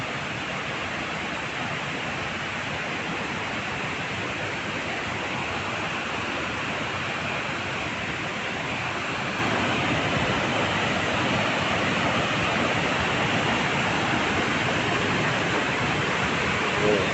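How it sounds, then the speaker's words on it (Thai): Bok Krai waterfall in Ranong, Thailand pours in a dense, continuous broadband roar, loud and steady throughout, growing slightly louder partway through, with no voices. "เป็นน้ำตกที่สวยงามมากๆนะครับ"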